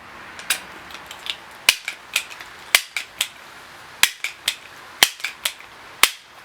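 A Crosman 1377 .177 pellet pistol is pumped by hand, giving a run of sharp, close mechanical clacks and clicks in an uneven rhythm, about a dozen strokes with brief pauses between.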